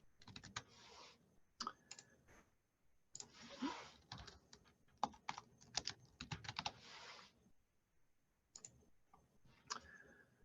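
Fingers type on a computer keyboard during a Jira Service Management session, with quiet, close clusters of rapid key clicks in short irregular bursts separated by brief pauses.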